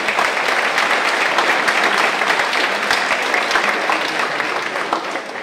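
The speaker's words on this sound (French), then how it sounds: "Je pense qu'on peut les applaudir." Steady applause from a lecture audience at an evening museum event, dense and continuous, holding at an even level for several seconds before easing slightly at the end.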